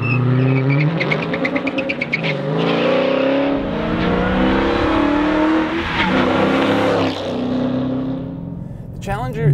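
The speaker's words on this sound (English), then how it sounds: "I'm still not sure what sounds better, the bellowing exhaust note or the supercharger whine." A 2015 Dodge Challenger SRT Hellcat with 707 hp and a 6-speed manual accelerates hard. Its loud, bellowing exhaust climbs steadily in pitch under a supercharger whine, close up and continuous.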